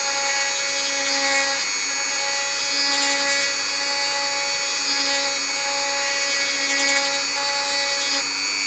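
A rotary tool fitted with a burr bit grinds into a plastic AT-ST miniature for Star Wars Legion, giving a steady high-pitched whine with strong harmonics that pulses slightly as pressure shifts, close and continuous throughout.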